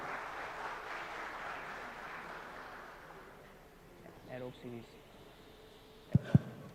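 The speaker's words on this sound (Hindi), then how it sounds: "आप सबकी भरपूर तालियों में।" Faint applause from an audience at an Inverex product launch event fills the first few seconds, then fades as a voice speaks briefly over the quiet room.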